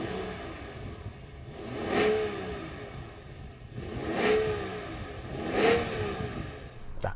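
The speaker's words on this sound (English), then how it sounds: "can you let me hear your engine please?" A BMW V12 car engine revs three times, each blip rising and falling over a steady idling rumble, heard from nearby.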